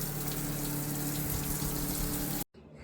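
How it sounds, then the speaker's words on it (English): Water runs steadily from the rinse shower aboard a 33 CSF Crevalle center-console boat, a loud continuous hiss and spray that cuts off abruptly near the end. "instant shower."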